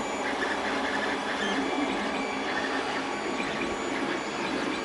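A Creality Ender 5 Plus 3D printer, a large machine with a massive print bed, running with a continuous whirring of fans and stepper motors, steady and moderately loud with no talk.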